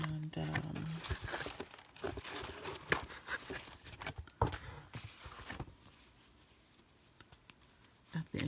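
Paper budget envelopes being handled close up, with soft crinkling, rustling and light tapping in irregular bursts that fade to quiet near the end.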